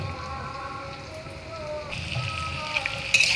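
Sizzling in a pan after ginger paste goes in, a soft continuous frying hiss with a faint tonal hum running underneath, brightening toward the end.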